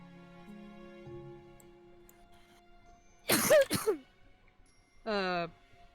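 A single sharp human sneeze bursts out mid-clip over quiet background music from a game, followed by a short exhale or vocal sound, fairly close and moderately loud.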